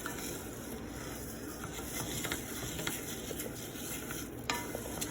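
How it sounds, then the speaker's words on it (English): Rice being stirred in oil in a pot, a steady soft scraping and gentle sizzle running throughout at close range, with no talking. "stir the rice and make sure each grain of rice is covered in oil"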